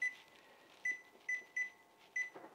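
An oven timer is being set in a home kitchen, giving a series of short, quiet electronic beeps at irregular intervals over a faint background hum.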